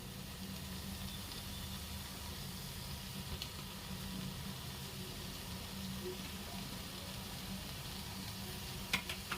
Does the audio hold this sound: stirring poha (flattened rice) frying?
yes